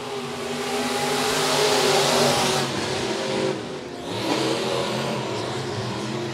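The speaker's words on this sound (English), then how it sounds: "hits that skinny pedal. We're green flag racing." USRA B-Modified race cars roar around a dirt oval at Monett Motor Speedway on a green-flag restart, a loud, continuous pack of engines revving and accelerating, rising and falling as they pass, with no talk.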